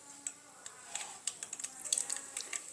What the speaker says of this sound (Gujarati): તેલ આપણું ગરમ થઈ ગયું છે તો તેમાં આપણે રાઈ ઉમેરી દઈશું